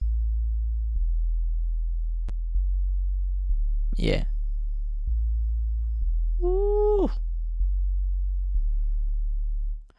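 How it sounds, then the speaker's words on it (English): Sub bass programmed in FL Studio for an afrobeat to sit with the log drum: a deep, steady tone sustained throughout, shifting pitch every second or two, with a couple of brief vocal exclamations over it. "It's like it's a sub bass that goes with logdrum."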